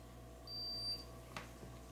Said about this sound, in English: So it beeps when you have the right amount of blood on the test strip.